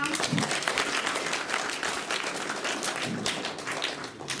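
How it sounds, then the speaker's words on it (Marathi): Villagers of Antarwali Bu at a Kranti Day gathering applaud together to honour a baby girl. The dense clapping is continuous and lively throughout, with a couple of low thumps. "या चिमुकलीसाठी आपण जोरदार टाळ्या वाजवा"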